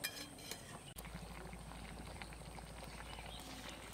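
Egg curry gravy with cauliflower bubbling in a pot, a steady low simmering burble that runs throughout at close range, with a brief clink near the start.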